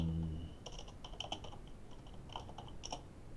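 Quick bursts of keystrokes on a computer keyboard as a Java filename is entered at the command line, close and crisp clicks in short clusters with brief pauses between.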